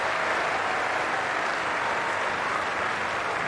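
Stadium crowd cheering and clapping for England supporters in the Cricket 2002 video game, a steady, dense wash of applause that stays loud the whole time with no voices over it.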